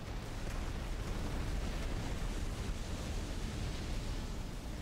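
Battleship main guns firing in the naval combat game Battlestations Midway, heard as a dense, continuous roar of booming rumble and noise that stays loud and unbroken throughout.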